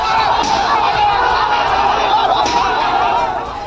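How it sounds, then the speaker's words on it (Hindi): A large crowd outside a house loudly cheers and urges on people tearing down a tin shed, a dense, steady roar of voices and shouts running throughout and easing slightly at the end. "तोड़फोड़ करने वालों का हौसला बढ़ाया जा रहा है"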